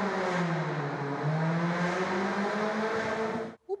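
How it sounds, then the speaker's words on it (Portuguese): A car engine runs under load on a 4x4 chassis dynamometer at a vehicle technology test centre, a loud steady whine with shifting pitch that holds for about three and a half seconds before cutting off abruptly. "O barulho é do motor de um carro testado no dinamômetro 4x4 de chassis."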